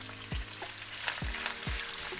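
Onions sizzle in a pan for Mediterranean kalamata chicken, a soft steady fry with three sharp spoon or spatula knocks spaced through the sizzle, no voices.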